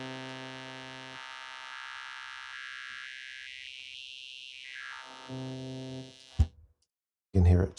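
A buzzy, hum-like synthetic tone processed by the SpecOps spectral slide effect, which shifts FFT bins one step at a time, giving a stepped, quantized sweep; a short sharp click and burst of noise end it, no speech.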